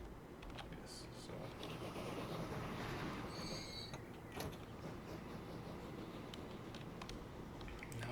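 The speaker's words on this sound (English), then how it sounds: "This is a big train. It's going to zoom through town." A big train in Transport Fever 2 rushes through town, a steady dense rumble with creaking, clattering mechanical noise running the whole time at an even level.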